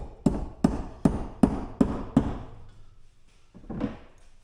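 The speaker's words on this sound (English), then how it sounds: "Get my mallet here. We'll pound them in the holes." A mallet pounds pegs into holes on a UTV cargo net bed organizer: six evenly spaced, close, solid thuds, a pause, then one softer knock.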